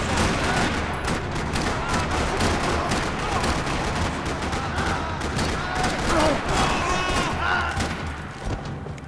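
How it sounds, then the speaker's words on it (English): Rattling gunfire echoes through a parking lot in Max Payne 3, rapid bursts of shots layered over one another almost continuously at close range, with a voice briefly talking among the shooting. "Another parking lot rattling with gunfire."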